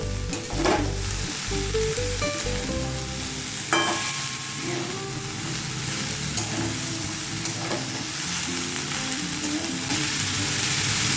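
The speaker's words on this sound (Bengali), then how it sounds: "দই ঘেটে দিচ্ছি এবার" Whisked yogurt stirred into a hot frying pan with drumstick flowers gives a steady, dense sizzle with scraping spoon strokes throughout. No one speaks.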